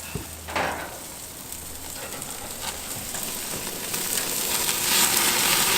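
Hamburgers sizzle on a hot BBQ grill as they are flipped, a loud steady sizzle with a few sharp scrapes of the spatula, swelling a little toward the end, without any talking.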